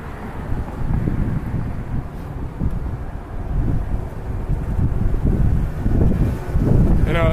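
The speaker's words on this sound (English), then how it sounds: "it's like super windy here" Strong wind buffets the microphone, producing loud rumbling gusts that rise and fall continuously.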